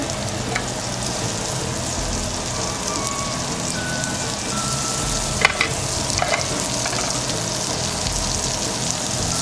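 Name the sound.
onions frying in oil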